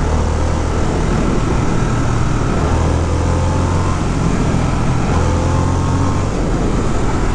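A 2022 Harley-Davidson Sportster S motorcycle engine pulls steadily at speed, a loud, continuous droning roar with heavy wind rush throughout and no pauses.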